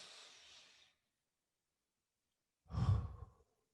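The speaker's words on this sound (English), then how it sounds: "Now I want you to breathe in and then breathe out." A person breathes in and then out during a guided meditation: a soft, airy inhale, a pause of silence, then a louder, fuller exhale close to the microphone.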